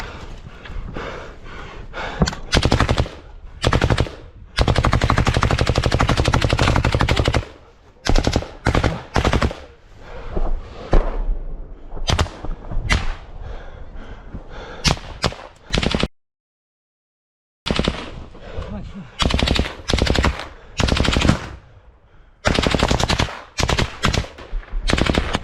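Automatic rifle fire in combat: loud, close bursts of rapid shots repeat throughout, broken by short pauses and one brief silence, with heavy breathing and gasps between bursts.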